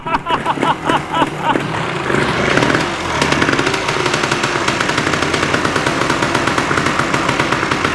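A Tri-Z 250 two-stroke engine sputters with a few uneven pops after the choke is pulled, then catches and runs loud and close with a rapid, buzzing idle.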